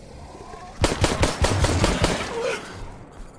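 In the video game Stalker GAMMA, a rapid burst of automatic gunfire rattles for over a second in close, loud, evenly spaced shots, then fades into a quieter tail.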